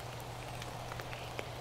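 Rain falls steadily in a forest, a soft even patter of drops with a few scattered louder taps, faint and continuous without speech.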